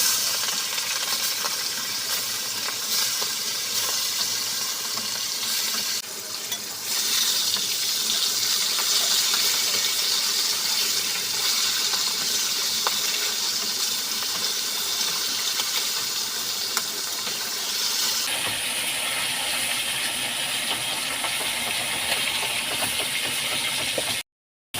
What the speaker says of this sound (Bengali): রসুন মিডিয়াম ফ্লেমে 3 মিনিট মাছ ভেজে নিয়েছি